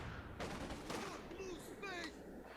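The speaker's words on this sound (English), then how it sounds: "I think that's just going to be the infantry support gun firing to the east" In the strategy game Company of Heroes 2, an infantry support gun fires to the east in a few muffled, distant booms under battlefield clutter, with voices and faint chatter mixed in.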